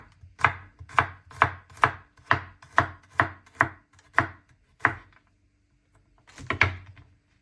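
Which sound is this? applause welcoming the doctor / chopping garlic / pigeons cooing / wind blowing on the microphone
chopping garlic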